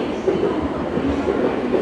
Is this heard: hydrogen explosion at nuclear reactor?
no